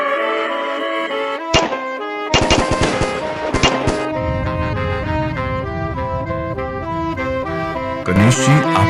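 Gunfire in a Hindi horror cartoon: loud bursts of rapid shots crack out in clusters over a sustained musical score, with sharp volleys near the middle and again at the end.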